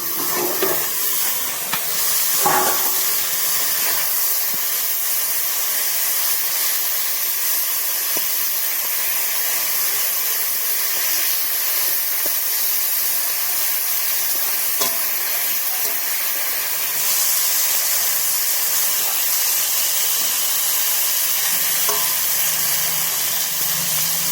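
Flat beans sizzle in hot oil in a pan, a steady loud hiss lasting throughout with occasional clinks of a utensil.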